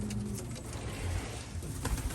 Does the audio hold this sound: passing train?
no